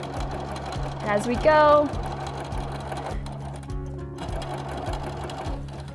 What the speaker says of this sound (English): we can put our edge right up against that needle and start to sew.